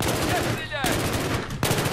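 Automatic gunfire from the video game Battlefield 3: rapid, close, loud bursts of shots with a brief break and a sharp restart, mixed with other game sounds.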